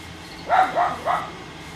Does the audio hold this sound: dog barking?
yes